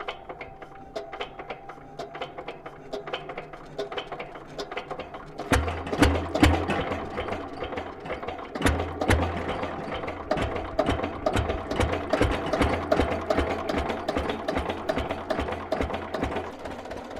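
A homemade motorized vehicle's starter cranks with quiet ratcheting clicks, then the motor catches and runs close by with a steady, rapid mechanical chatter and low rumble.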